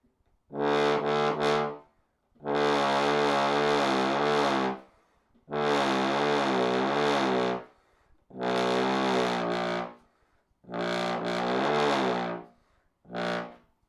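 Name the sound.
brass bass (tuba) playing low notes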